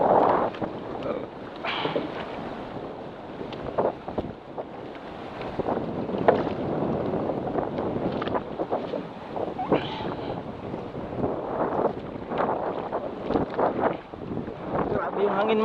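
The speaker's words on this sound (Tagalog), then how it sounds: "Grabe yung hangin" Strong wind roars and buffets across the microphone throughout on a boat out crab fishing with traps, with rushing water and boat noise underneath.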